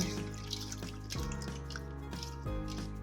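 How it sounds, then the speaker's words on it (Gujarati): Water splashing and dripping as green grapes are rinsed under a running tap, with a low continuous hum beneath. "સારી રીતે પાણીથી આને વોશ કરી લેવાની છે"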